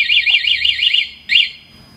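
A motorcycle alarm blares a loud, rapidly warbling electronic siren in repeated pulses, cuts off briefly, then gives one more short burst before stopping, heard close and alone.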